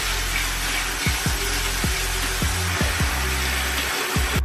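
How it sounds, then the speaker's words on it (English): Running water rinsing toning mask off a mannequin head's face, a steady hiss of flowing water with intermittent low splashing thumps, close and continuous. "So I'm gonna rinse off her face a little bit."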